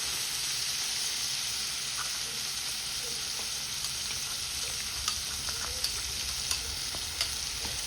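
Sliced bitter gourd fries with added spices in a pan while being stirred, making a continuous soft sizzle with scattered light clicks and scrapes of the spoon, close up and without talking.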